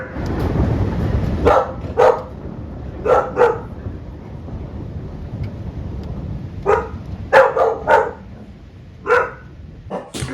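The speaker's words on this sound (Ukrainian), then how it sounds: "на звук вибуху вона гавкає" Dog barking in reaction to thunder, sharp close barks in short bursts of one or two, repeated about eight times over a low rumbling storm background.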